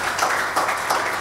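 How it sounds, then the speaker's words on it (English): A church congregation claps together in a short, dense burst of applause, many hands at once, steady and fairly loud, with no words spoken. "Can we give the Lord a clap offering for them?"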